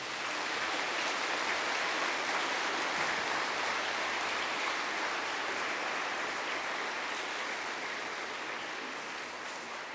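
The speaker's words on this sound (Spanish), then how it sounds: "A mí me gustaría que le regaláramos un aplauso al Padre" A church congregation at a Lenten mission applauds the priest, a dense, even wash of many hands clapping that holds steady for several seconds and tapers slightly at the end, with no voices over it.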